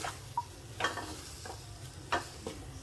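A capsicum stuffing mixture with coriander and curry leaves is stirred in a pan, with about five distinct scraping strokes at uneven intervals over a faint, close background sizzle and no talking.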